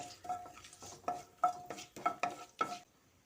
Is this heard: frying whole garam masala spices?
yes